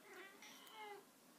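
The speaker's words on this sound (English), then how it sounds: "That's my cat." A pet cat crying in a home, a short drawn-out meow that rises and falls over about a second, moderately close and alone with no talk.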